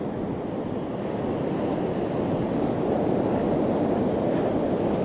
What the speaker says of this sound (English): I think the water might even be more wild than it was the last time we were here